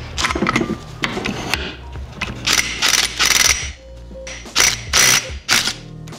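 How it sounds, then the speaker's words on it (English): An electric impact wrench works on the bottom end of an abused YZ250 dirt-bike engine, firing several loud, close hammering bursts separated by short pauses. "Then we'll use our electric impact."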